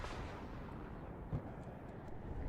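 A mortar fires in the Warno wargame: a muffled, distant thump over a steady low battlefield rumble, brief and understated.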